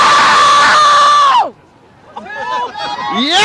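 A woman at a political protest lets out a loud, sustained scream that cuts off abruptly, followed by a short pause and then a crowd cheering and whooping.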